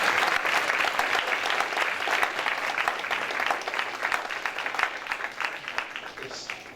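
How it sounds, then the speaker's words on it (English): Sustained applause from a sizable crowd, dense clapping that stays loud throughout and slowly thins toward the end. "need to be given a round of applause for their consistency"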